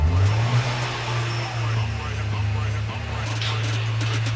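Nissan 370Z engine idling and revving close by, a rumbling low drone that swells in a couple of rises and dips, with people talking faintly over it.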